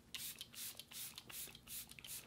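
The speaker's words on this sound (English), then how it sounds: "Dewlock Setting Spray." Several short bursts of fine misting spray from a Half Magic Dewlock makeup setting spray, close and quiet, repeated in a loose rhythm with small pauses between pumps.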